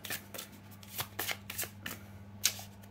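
Tarot cards are shuffled close by before a reading, a run of soft riffling flicks in quick irregular bursts over a low steady background hum.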